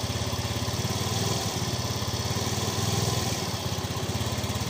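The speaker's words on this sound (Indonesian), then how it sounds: "kemudian saya akan coba tarik gas" A Yamaha Fino 125 scooter with a sputtering, underpowered engine runs up close, its throttle eased open gently into a buzzy, pulsing drone that wavers unevenly.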